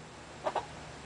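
Two quick, soft clucks from a broody hen close by, one right after the other, against a quiet background.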